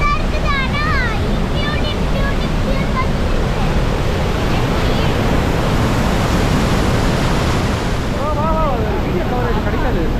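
Rhine Falls in Switzerland roars as a loud, continuous broadband wash of falling water, with a few birds chirping over it near the start and end.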